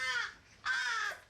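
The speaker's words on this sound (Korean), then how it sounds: "까마귀들의 울음소리가 한층 더 높아집니다." Captive crows in a wildlife rescue center aviary caw as a veterinarian approaches with bowls of raw meat, two loud, harsh calls close by, separated by a short pause.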